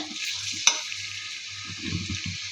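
Soft sizzling of ginger garlic paste frying in a pan after onions, with a sharp utensil clink and scraping stir strokes.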